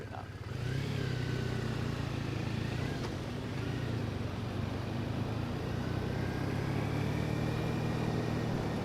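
A 2009 Triumph Bonneville motorcycle rides through Tokyo streets with a steady, low engine drone and constant wind and road rumble, heard from the rider's position throughout.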